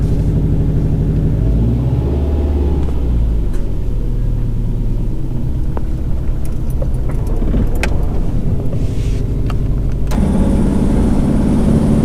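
Turbocharged, formerly naturally aspirated Subaru car with upgraded fuel injectors starting up and idling for a test drive, a loud, close steady engine rumble with faint key and interior clicks.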